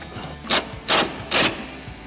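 A ratchet wrench snugs the nuts on a Rancho RS5000X loaded front strut for a GMC Sierra 1500 4WD truck. It makes three short, evenly spaced bursts of rapid clicking, close and fairly loud, over a quiet background.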